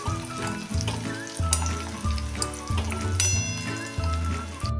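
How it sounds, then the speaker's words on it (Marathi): Peanuts for masala peanuts fry in oil over a medium flame, a bubbling sizzle with spattering pops and a repeating scrape of stirring every second or so, close up and without speech. "मिडियम फ्लेमवर हे शेंगदाणे आपण असे खरपूस"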